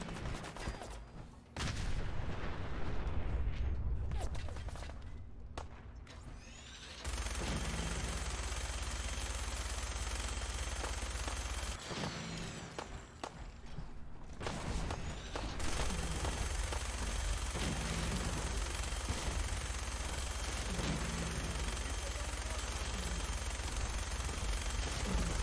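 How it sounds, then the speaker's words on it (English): Minigun fire in Fallout 4 roars in long, dense bursts of rapid gunfire, loud and continuous, broken by brief pauses and swells of heavy shooting. "Eat minigun, motherfucker."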